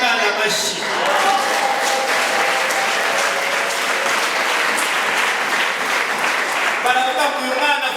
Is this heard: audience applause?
yes